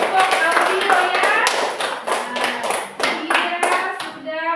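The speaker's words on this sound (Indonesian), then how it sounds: "beri tepuk tangan untuk kelompok audio ya" A classroom of students claps for a presenting group, with a steady run of close, sharp handclaps, voices heard faintly underneath.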